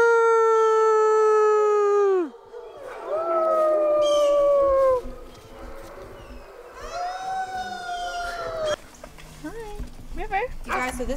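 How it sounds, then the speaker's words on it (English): Long, sliding howls rise and fall from a group of wolf dogs at a sanctuary, loud and close, with voices chattering and calling between the howls. "They're all howling."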